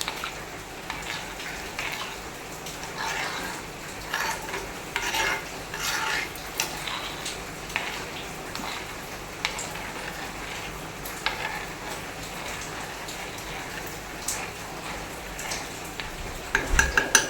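Curry being stirred in a clay pot, a continuous close scraping and sloshing with soft irregular knocks of the spoon, steady throughout with no voices.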